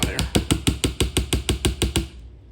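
Ketchup bottle banged hard over and over to shake the ketchup out, about a dozen quick loud thumps in a steady rhythm that stop after two seconds.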